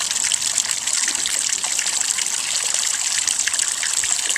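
Water pours steadily into a garden pond during a water change, a continuous close gushing and splashing that stays level throughout with no talk.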